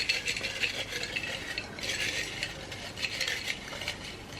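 Paper prompt slips being shuffled and mixed inside a TBR jar, giving a steady, close rustling and light rattling with irregular bursts of scratchy movement, no voices.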